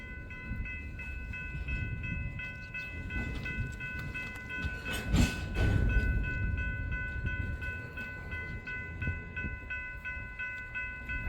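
Norfolk Southern locomotive NS 6963 passes in Bellevue with a long, loud, sustained horn salute over the steady rumble and clatter of the rail cars.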